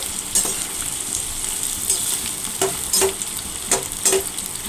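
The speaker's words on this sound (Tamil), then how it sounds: "பாவக்காவை அதில் நல்லா போட்டு ஒரு 5 நிமிஷம் நல்லா அதிலே வேக வச்சு எடுத்துக்கலாம்." Bitter gourd fries in hot oil for a kuzhambu, giving a steady, close sizzle broken by repeated scraping stirs of a spatula against the pan at an uneven rhythm.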